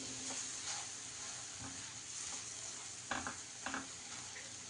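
Masala sizzling gently over a low flame for egg curry, a quiet steady fry with a few soft stirring scrapes that grow slightly louder near the end.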